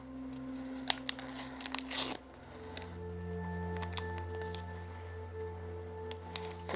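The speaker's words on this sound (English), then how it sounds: "rip a little bit of the packet off" A wipe packet is torn open with a brief, crisp rip near the start, followed by quiet handling against a steady low hum.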